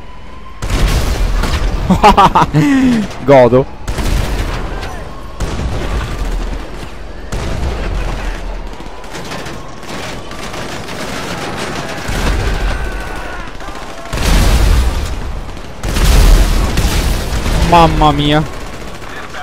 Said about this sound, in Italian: Si vede proprio il cannone che scannona proprio.